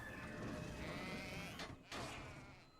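A sheep in Skylanders: Spyro's Adventure gives a faint, drawn-out bleat with a quick mechanical slide and clunk partway through, heard quietly with no talking.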